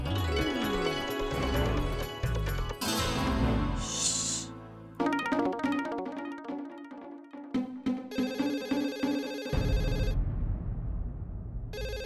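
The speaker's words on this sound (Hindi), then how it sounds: "मैं ये फोन उठा नहीं सकता, तू ये फोन उठा" Telephone ringing on a garage line, a repeated electronic ringtone with a steady pulsing rhythm, mixed with music and other sounds, fairly loud throughout.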